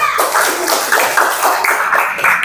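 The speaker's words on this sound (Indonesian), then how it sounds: "Tepuk tangan untuk teman tak." Applause in an Indonesian classroom during a coding and artificial intelligence training session: steady, dense clapping from a group fills the whole stretch at a moderately loud level, with no clear talk over it.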